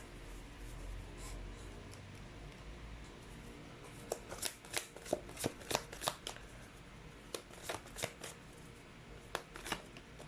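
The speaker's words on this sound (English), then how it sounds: "Let's pull up more cards." Tarot cards are shuffled and pulled for a pick-a-card reading, producing a run of close, crisp card snaps and riffles that grow busier midway, set against a quiet room.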